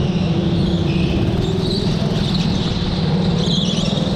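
A go-kart leaves the pits at Teamsport Cambuslang, giving a steady, close engine drone with a faint hum underneath that holds at an even level throughout.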